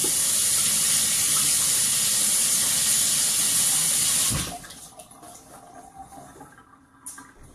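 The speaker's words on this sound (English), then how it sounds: "And wash my hand." Hands are washed under a running kitchen tap, a loud steady gush of water that cuts off abruptly partway through, leaving a quiet room with faint small clatters.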